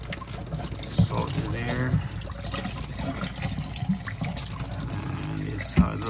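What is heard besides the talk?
rinsing a muddy fog light assembly with water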